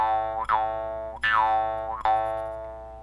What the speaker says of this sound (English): These are jaw harps, and these are on the Frontier.